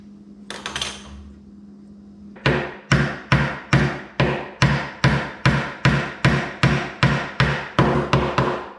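A hammer drives wood through a steel dowel plate to make dowels, about fourteen sharp, ringing strikes in a steady rhythm, close and loud, after a brief quieter shuffle of handling.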